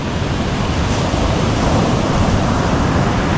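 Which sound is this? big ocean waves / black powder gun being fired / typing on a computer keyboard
big ocean waves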